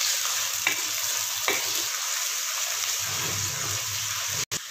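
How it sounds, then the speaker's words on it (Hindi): Chopped tomato and green chilies soften in a hot pan with a steady close sizzle and a few soft scraping stirs, frying continuously before cutting off abruptly near the end. "टमाटरों को हम सॉफ्ट कर लेंगे"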